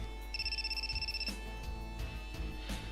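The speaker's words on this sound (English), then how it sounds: "Gets a phone call from Hibiki" Electronic telephone ringtone in the Super Robot Wars Z3.2 video game, a steady pulsing two-tone ring lasting about a second, then stopping under quieter game background sounds.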